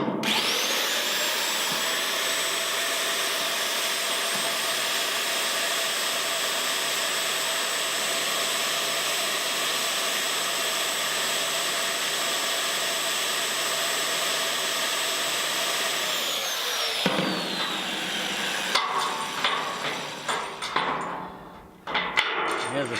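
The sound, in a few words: power wrench driving bolts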